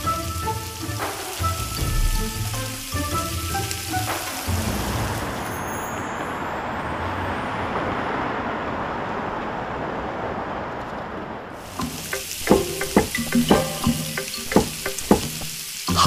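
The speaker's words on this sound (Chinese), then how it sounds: "刚刚的中火是为了将猪排内外炸熟，而此时的大火才是表皮酥脆的关键" Pork chops deep-frying over high heat in hot oil, a dense steady crackling sizzle that runs continuously, with occasional louder pops and stirring near the end.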